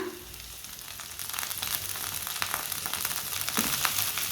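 Finely chopped onion, green chili and fresh coriander frying in hot ghee in a pan, a steady close sizzle that swells slightly with occasional stirring scrapes, no voices.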